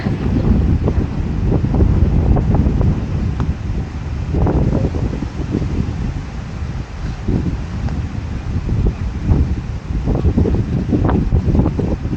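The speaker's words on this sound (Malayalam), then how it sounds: "സൂപ്പർ കാറ്റ്." Strong wind gusting through a forest on a hilltop trail in Silent Valley, a steady broadband roar with rising and falling surges that buffet the microphone throughout, with no voices.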